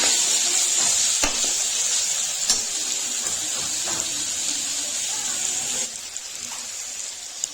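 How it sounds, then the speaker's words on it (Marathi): Tomatoes cook with browned onion in a pan and make a steady, close sizzle. Occasional stirring clatters over it and the frying quiets slightly near the end. "कांदा आपला छानपैकी ब्राऊन झालेला आहे त्यामध्ये आपण टॅमॅटो टाकून घ्यायचं आहे टॅमॅटो छानपैकी मऊ होईपर्यंत त्याला शिजून द्यायचं आहे"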